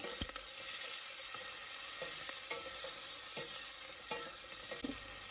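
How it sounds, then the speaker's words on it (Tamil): Curry leaves stirred in a hot pan with tomatoes, sizzling as a steady hiss while a spoon scrapes the pan in soft repeated strokes. Nothing else is heard. "கருவேப்பிலையும் அப்படியே ஆட் பண்ணிடலாம் சேர்த்துட்டு நல்லா மிக்ஸ் பண்ணி வச்சுக்கோங்க"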